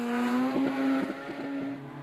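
A Ford Escort rally car on a gravel stage at Rally Wairarapa, its engine holding a loud, steady high note, then briefly changing pitch with short rough bursts as it passes nearby.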